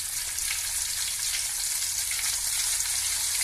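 Fresh green herbs drop into hot oil in a pan and give off a loud, steady hiss and crackle that runs without a break from start to end.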